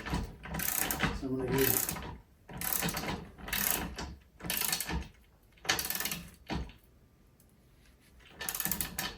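An old torque wrench ratcheting in repeated short bursts of clicking while a DeWalt DWX726 miter saw stand is assembled, close and fairly loud, with brief pauses between strokes and someone talking briefly.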